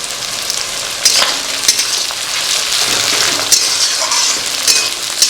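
Tomato and green chilli hit browned onions in a hot pan, raising a loud, dense frying crackle with several sharp spikes of stirring and scraping throughout.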